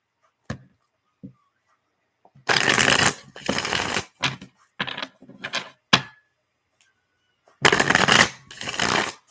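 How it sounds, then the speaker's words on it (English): Tarot cards being shuffled: several loud riffling bursts separated by softer taps and snaps, close up, with no talking. "All right, I will shuffle those again."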